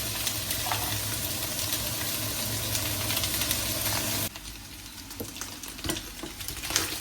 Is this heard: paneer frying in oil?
yes